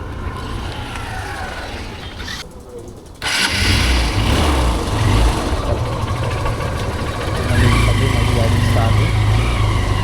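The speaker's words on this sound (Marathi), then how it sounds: "आता मी माझी बाईक काढतो इथून" A motorbike engine starts up after a brief lull and idles steadily in a parking area at night in Mumbai, a close, constant low rumble that carries on to the end.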